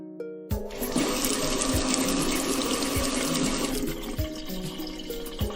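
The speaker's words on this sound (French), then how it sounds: "Arthur ouvrit le robinet d'eau." A cartoon water tap is turned on at very high pressure, and a loud gush of running water starts abruptly and keeps pouring, with soft low thumps underneath.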